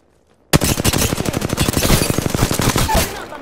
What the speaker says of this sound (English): Hold up, I'm getting shot at.